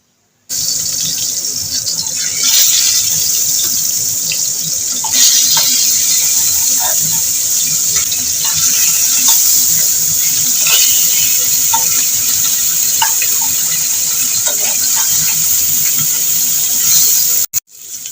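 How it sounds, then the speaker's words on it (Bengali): Rohu fish frying in mustard oil in a hot kadai makes a loud, continuous hiss with scattered crackles and pops, holding steady for the whole stretch before cutting off abruptly near the end. "আমি সর্ষের তেল দিয়ে দিচ্ছি মাছটা ভেজে নেবো"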